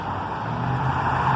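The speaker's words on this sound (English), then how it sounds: "Lots of cars." Traffic on a busy street outside a shopping centre in Toronto, a steady broadband rumble and hiss of cars passing nearby with no talk over it.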